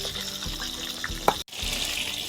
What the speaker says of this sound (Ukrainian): Оце ж кварчить.